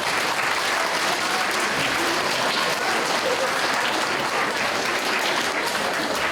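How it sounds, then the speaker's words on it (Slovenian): A school audience at a Christmas and New Year concert at the primary school in Kranjska Gora bursts into loud, dense applause that runs continuously from start to finish like a wash of many hands. "In en aplavz tudi za njih"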